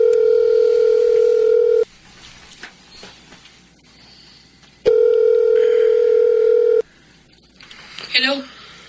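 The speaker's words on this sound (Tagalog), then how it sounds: "At ngayon, tatawagan ko na si Rosella" A mobile phone call rings out with two long, loud steady tones separated by pauses, followed by a brief rustle and faint handling noise at the end.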